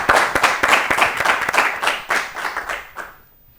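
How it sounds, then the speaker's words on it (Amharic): Studio audience applause for a young contestant on an Ethiopian children's TV quiz show, a burst of brisk, close hand claps that thins and fades toward the end. "አጨብጭቡላት በደንብ አድርጋ"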